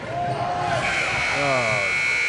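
A long electronic buzzer sounds at the end of a girls' high school basketball period in a gym, a steady loud tone over crowd noise and an announcer talking.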